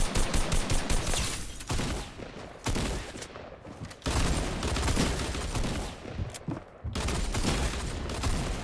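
Dense bursts of rapid gunfire from an online shooter video game on Oceania servers, loud and nearly continuous across the clip with brief gaps, no talking.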